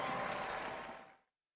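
Brief burst of crowd applause and cheering at a Knicks vs Cavaliers basketball game, loud at first then fading out quickly after about a second.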